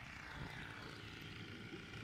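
A steady, continuous motor drone with a buzzing engine tone, constant in level throughout, like a moped engine running nearby in Bayonne-Anglet along the Adour.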